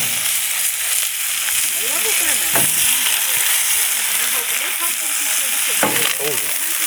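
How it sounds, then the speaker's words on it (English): Loud, continuous sizzling of elk burger patties frying on a hot griddle, with occasional scraping clicks from a spatula, close up. "Nothing like an elk patty sizzling on the griddle."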